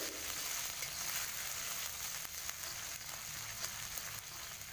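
Lumpia filling sizzles softly in a pan, a quiet, continuous crackle with faint scraping from stirring.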